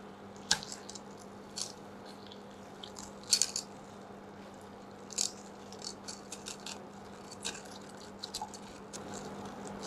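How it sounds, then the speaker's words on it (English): Butter and cream being whisked for caramel sauce with a wire whisk, making soft, irregular wet squishing and light metallic taps against the bowl, close and quiet. "I'm going to switch over to using wire whisk. The butter should melt and the cream should get fully incorporated."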